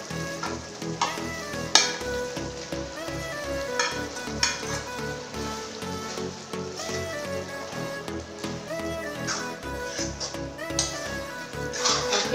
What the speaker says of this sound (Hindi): इस सब मसाला सुंदर भुजा गए हैं, अब मैं एमा डाल देता हूँ ये भिंडी ला।